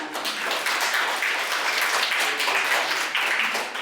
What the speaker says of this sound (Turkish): Seni doğru alkış atıyoruz arkadaşımıza.